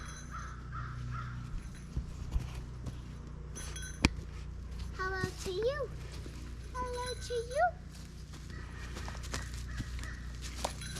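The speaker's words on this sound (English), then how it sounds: "All the birds are talking today. Yeah. Sounds like mostly crows." Crows caw around a cabin in the Poconos woods, several distinct rising calls in short bursts at moderate distance, with scattered clinks and footsteps and a person speaking briefly.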